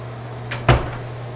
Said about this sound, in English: then open the door again for me